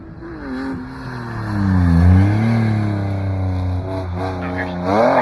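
A BMW drift car on a kart track revs hard, engine pitch rising and falling as it slides sideways, fairly close and loud with a faint tyre squeal near the end.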